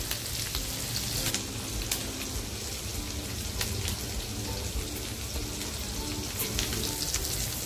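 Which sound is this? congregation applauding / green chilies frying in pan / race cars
green chilies frying in pan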